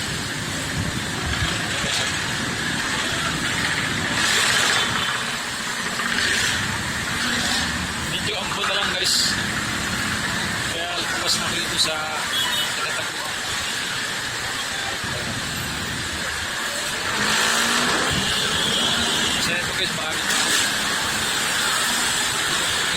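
Road traffic rumbles and hisses across a bridge on an elevated skyway in strong wind and rain, with vehicles passing continuously while someone talks throughout.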